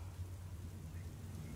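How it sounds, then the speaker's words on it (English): In the video game Furi, rain falls in a steady hiss over a deep, continuous rumble of thunder. The storm fills the whole moment at a low, even level, with no voices. "I hear thunder. Pitter patter."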